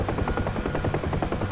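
Rotor thump of a UH-1H Huey helicopter in a DCS combat flight simulator, a steady fast rhythmic beat with engine whine, loud and continuous throughout.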